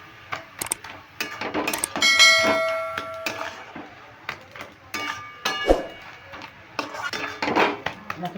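A metal spatula scrapes and clinks in a pan while khesari greens are turned and stirred, giving irregular ringing taps and scrapes with faint talk underneath.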